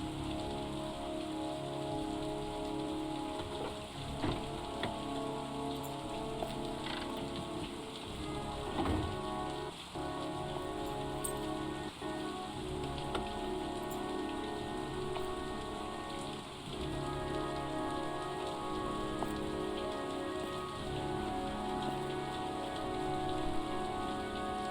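Rain pouring in the video game Heavy Rain, a continuous dense patter on surfaces with occasional louder drops and faint distant rumbles, steady throughout.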